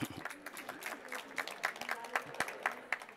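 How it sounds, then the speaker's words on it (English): Audience applause at a technical conference talk on IPv6 and Raspberry Pi projects, a quiet scattering of individual claps with a little speech mixed in, fading in over a few seconds before the next presenter begins. "So clap your hands for Carlos Rai Usendo."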